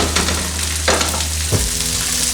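Mushrooms dropped into a hot pan for a breakfast fry-up, a loud close frying hiss with a low hum underneath and a couple of sudden bursts as they hit the oil.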